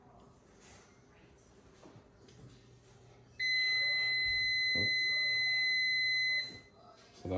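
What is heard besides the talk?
kitchen timer beeping for heated pan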